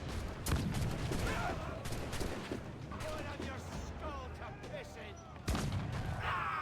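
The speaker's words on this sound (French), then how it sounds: "je lui ai mis un coup de boulet d'un canon dans la tronche" Cannon fire in a pirate ship video game: a volley of booming shots, including sharp blasts near the start and near the end, amid a dense rumbling battle mix.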